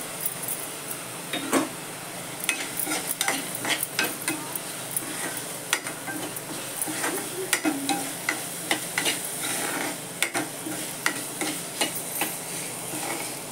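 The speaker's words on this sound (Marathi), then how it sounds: "भिजलेली डाळ घालते. शेंगदाणे घालते." Soaked lentils and peanuts rattle into a hot oiled pan and fry with a lively sizzle, while a spoon stirs and scrapes in quick irregular clicks close by.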